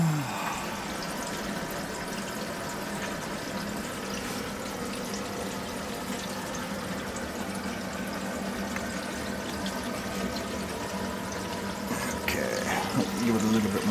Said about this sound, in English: that air is making its way through here, and it's kind of getting this waterfall effect